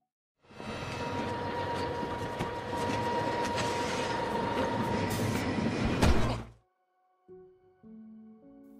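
Train rolling along rails, a steady, loud rumble and clatter lasting several seconds that cuts off abruptly, followed by brief separate tonal sounds after a pause.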